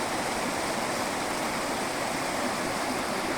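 A waterfall on the road from Bommidi to Yercaud pours in a steady, dense rushing hiss, close and unbroken throughout, with no voices.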